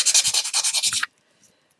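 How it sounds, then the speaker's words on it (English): Chipboard pieces are sanded in quick back-and-forth rubs, about a second of bright scratchy strokes, then a pause before another brief rub begins. "You want to sand those off"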